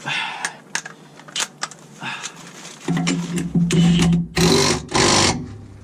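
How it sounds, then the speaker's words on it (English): A stubby air impact gun tightens bolts on a Mercedes in a workshop, with a low air hiss and light clatter first, then two loud, rattling hammering bursts near the end. "We are gonna get this socket on this little stubby gun. I'm gonna tighten them up."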